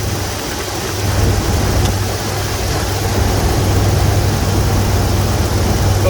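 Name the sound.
Jeep 4.0 inline-six engine running, slight dry lifter noise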